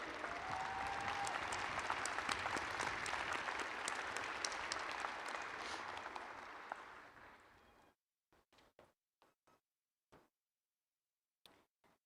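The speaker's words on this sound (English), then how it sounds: "Please join us in applauding these exceptional students on this very special day." Commencement audience at Norwalk Community College applauding graduating students: a loud, dense burst of crowd clapping that fades out after about eight seconds, followed by a few scattered, isolated claps.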